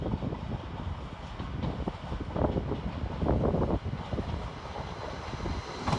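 A Transpennine Express class 802 train, unit 802.211, pulls out of Leeds station with a broad, rising rumble and rail noise. Wind buffeting on the microphone is mixed in, and the sound stays steady and fairly loud.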